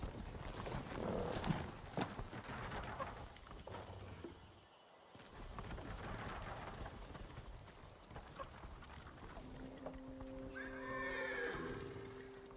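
In Ghost of Tsushima, horse hooves clip-clop along with whinnying, followed near the end by a few sustained tonal notes, all fairly steady and moderately loud.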